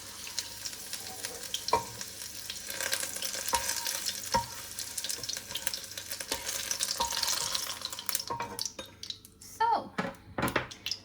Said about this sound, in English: So you put them in and basically fry them. Until they're golden.